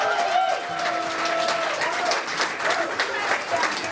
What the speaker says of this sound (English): Let's have a big round of applause for Megan, everyone, please.